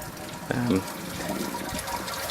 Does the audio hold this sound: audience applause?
no